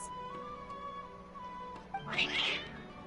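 Two cats meowing in the video game Genshin Impact, a soft drawn-out mew over a quiet ambient drone, followed by a louder, brighter meow near the end.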